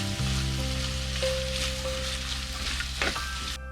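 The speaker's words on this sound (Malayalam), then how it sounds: "ഒരു ട്രാൻസ്പെയറന്റ് കളറൊക്കെ ആകുന്നിടം വരെ വഴറ്റിയെടുക്കാം" Onions fry with a pinch of salt in a pan for a Kerala-style squid roast, giving a steady close sizzle throughout with faint tonal hum underneath and a few soft stirring scrapes near the end.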